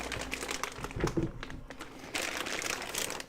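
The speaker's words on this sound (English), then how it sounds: "You might need to get a friend to hold this for you while you take the plastic bag off." Plastic bag being pulled off a Stargate toy of Ra's pyramid ship, close crinkling and rustling in bursts with a louder stretch of crackle near the end, no voices.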